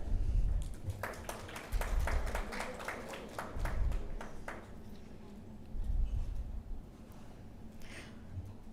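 An audience at a health awards ceremony applauds with a moderate round of clapping that swells, fades and briefly rises again. It sounds somewhat distant in a large hall.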